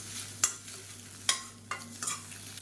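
Eggs stir-fried in a pan with pepper, cumin, turmeric and salt: a quiet, continuous sizzle broken by a few sharp scraping strokes of a spatula against the pan.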